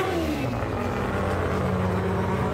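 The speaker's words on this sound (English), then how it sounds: "Oh, I think that's Mazda 4-rotor RX-7. That's a 4-rotor. Yeah, it's a 4-rotor with a massive turbo." A Mazda RX-7 with a 26B four-rotor engine and a massive turbo, revving hard and continuously with a loud, high, buzzing rotary wail throughout.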